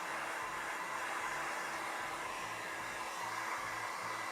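Heat gun blowing steadily on hot glue lizard scales, a loud, constant close-up rush of air with a faint rhythmic pulsing underneath and no talk.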